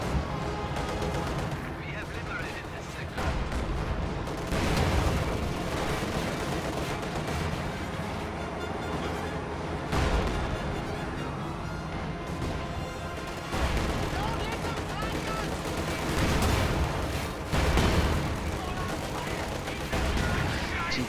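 A WWII strategy game battle with T-34 tanks, a Panzer IV and anti-tank guns rumbles with repeated gunfire and heavy artillery bursts, dense and continuous with sharper booms every few seconds, and a voice talking over it.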